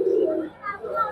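Female pigeon in a loft, a standing breeding bird, gives a short cooing call: low warbling coos, fairly close, with a brief dip before resuming.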